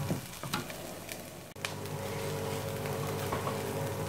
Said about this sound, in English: I'll cook that for maybe 2 or 3 minutes until the onion's translucent.